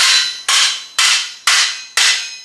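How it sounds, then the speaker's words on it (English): Five evenly spaced, ringing blows from a small blacksmith hammer on metal, loud and close, each strike decaying before the next in a steady rhythm. "This is a small blacksmith hammer for pounding on like hot metal"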